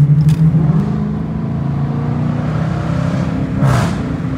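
Dodge Challenger R/T engine rumbling loudly in rush-hour traffic, a steady close-up drone with two brief rev bursts near the start and end, no talking.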